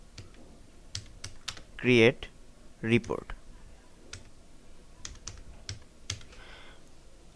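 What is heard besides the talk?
typing on a computer keyboard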